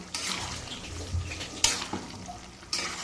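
Vegetable curry with coriander leaves being stirred in a pan, giving a soft sizzle with scraping and a few sharper clinks of the utensil against the pan, close and fairly quiet.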